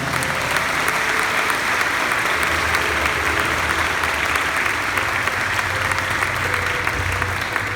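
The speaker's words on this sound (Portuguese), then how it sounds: "Vamos aplaudir essa palavra." A church congregation applauds during a Mass homily, a dense, even roar of clapping from many people that stays loud and steady from start to finish.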